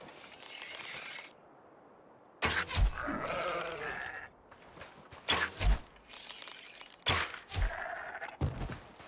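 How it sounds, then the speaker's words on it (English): Sheep in the video game RuneScape Dragonwilds bleat several times in short, wavering calls, interspersed with thuds and footsteps, fairly close and loud with no talk over them. "I feel bad attacking the deers and the sheep."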